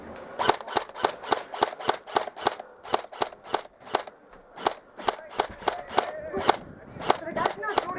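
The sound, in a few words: paintball markers firing during a game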